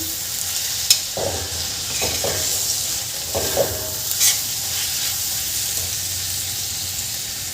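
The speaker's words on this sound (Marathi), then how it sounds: "याला छान मिक्स करून घ्यायचं आणि ही भाजी परत आपल्याला छान शिजवून घ्यायची आहे." Radish leaf bhaji with roasted peanut powder being stirred and sautéed in a pan, with a steady close sizzle and a few scraping stirs and utensil clinks, no talking.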